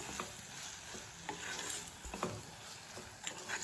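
Sugar being stirred into vermicelli cooking in a pan: a spoon scrapes and swirls in a few irregular strokes over a soft, steady sizzle, close up, with no talking.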